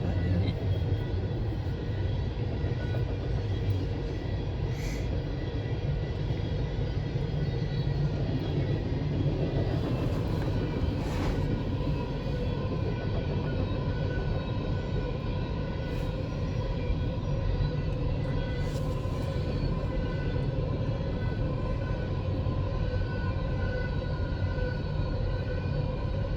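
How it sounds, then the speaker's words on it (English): A long freight train rolls past close by near Folkston, a continuous heavy rumble with clanking and steady wheel noise that holds at full loudness for the entire stretch. "It's a long train too."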